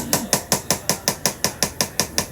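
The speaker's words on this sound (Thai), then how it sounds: "ตอนนี้ช่างก็กำลังสลักชื่อ ลงมีดนะคะ" A craftsman engraves a name onto a knife at a market stall in Osaka, making a rapid, regular series of about a dozen sharp metallic ticks, close and clear with no talk.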